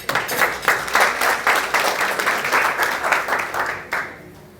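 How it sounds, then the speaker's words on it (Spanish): An audience applauds at a medical lecture on fetal alcohol syndrome. The clapping is dense and sustained for several seconds, then fades as it tails off near the end, with no talk over it. "Así que un aplauso para ellos."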